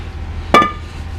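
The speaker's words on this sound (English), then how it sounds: "and now your rotor can come off." A Porsche 944 brake rotor comes off the hub with one sharp metallic clank, close and fairly loud, followed by a brief ringing decay.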